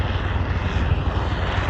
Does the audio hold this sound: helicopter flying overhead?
yes